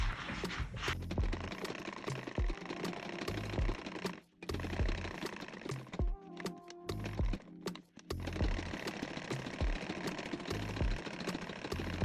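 A sewing machine runs a line of stitching along a ruched fabric strap for a baguette bag, a steady mechanical whir with rhythmic needle thumps that runs almost continuously, with two brief pauses.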